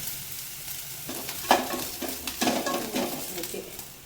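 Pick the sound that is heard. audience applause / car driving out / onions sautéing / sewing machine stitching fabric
onions sautéing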